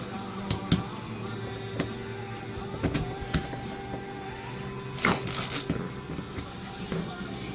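Screws being cracked loose on a Holley 4160 600 cfm four-barrel carburetor during an overhaul, heard as scattered sharp ratcheting clicks and small metallic ticks over a low background hum, with no talk.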